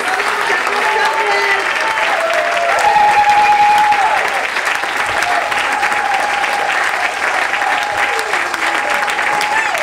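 Sustained loud applause from an audience at a science and arts event on plankton, a dense wash of many hands clapping continuously with a sustained tone running underneath.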